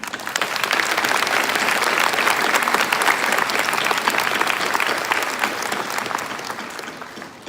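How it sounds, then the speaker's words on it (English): An audience at a graduation ceremony applauds in a sustained round of dense, loud clapping that holds steady and then eases slightly toward the end. "Let's take a moment to give a round of applause for the parents, teachers, administrators, and board members"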